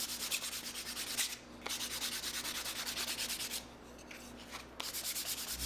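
Steady, continuous sanding of a wooden bullroarer's edges with sandpaper, a dry rhythmic rubbing that pauses briefly twice, close by with a faint low hum underneath.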